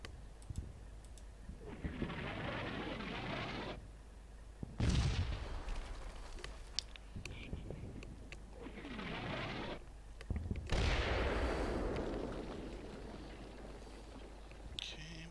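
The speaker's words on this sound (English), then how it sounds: "see if the artillery barrage lifts. Nope, still going steady." A sustained artillery barrage in the Combat Mission: Battle for Normandy wartime strategy game, with repeated heavy booming blasts and rumbling bursts rolling on steadily, interspersed with quieter hissing gaps and faint clicks.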